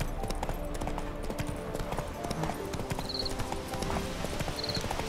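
Roach, the horse in The Witcher 3, trots along with a steady, close clip-clop of hooves that continues without a break over a low background bed.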